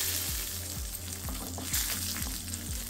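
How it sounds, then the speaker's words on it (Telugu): Dried red chillies crackle in a hot tempering of oil with urad dal and cumin, a soft, continuous close sizzle at low volume. "దీంట్లో ఎండుమిరపకాయలు కూడా వేసేస్తున్నాను"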